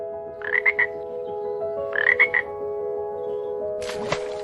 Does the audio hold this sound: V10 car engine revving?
no